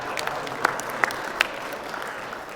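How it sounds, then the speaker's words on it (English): Audience applause during a leadership talk, a faint spread of clapping with a few distinct sharp claps standing out, accompanied by some background voices. "You can clap for that."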